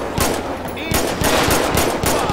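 Pistol gunfire in the police game LSPDFR, a rapid series of sharp, loud shots fired in quick succession, close and punchy against a noisy background.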